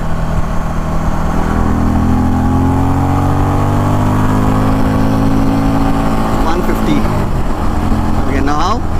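A 2024 Indian Challenger Dark Horse motorcycle pulls hard in third gear on a highway, its engine note climbing steadily under loud wind rush, with a brief voice near the end.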